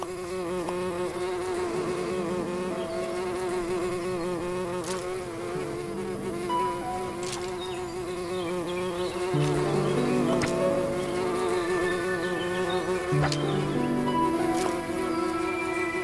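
Bees in the farming game Everdream Valley buzz steadily and close up, layered with a game music melody that shifts in pitch over a long unbroken stretch, and no one speaks.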